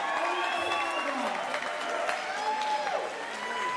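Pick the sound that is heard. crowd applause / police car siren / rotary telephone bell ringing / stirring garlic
crowd applause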